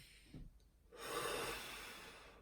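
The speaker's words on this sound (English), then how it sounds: "If you didn't know what a deep breath looks like, that's what a deep breath looks like." A person takes a single deep breath, a soft close inhale followed by a longer, steady, airy exhale in a quiet room.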